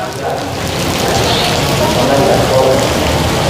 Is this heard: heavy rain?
yes